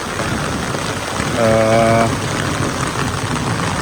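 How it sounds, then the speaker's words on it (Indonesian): Heavy rain falls steadily on a campsite by a river, a dense, even hiss throughout, with a brief low engine-like hum swelling midway and no talking. "udah berjam-jam hujannya nggak berhenti"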